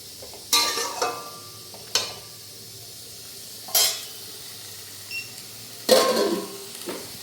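Sour vegetables lightly frying in a pan, heard as a steady soft hiss broken by several loud, sharp stirring scrapes and sizzling bursts at irregular intervals, close to the microphone.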